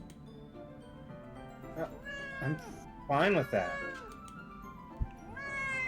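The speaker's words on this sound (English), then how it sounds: "Where'd that fucking cat come from?" A cat in the Doki Doki Literature Club Plus video game meows several times in drawn-out, wavering calls, with a louder caterwauling burst midway, mixed with a person talking and background music.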